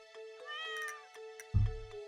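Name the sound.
cat meowing in video game Stardew Valley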